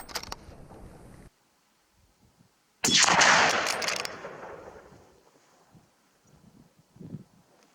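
A single loud gunshot rings out in open country while hunting a bird on a solo tahr hunting trip, a sharp blast that decays over about two seconds, with rustling and faint wind before and after.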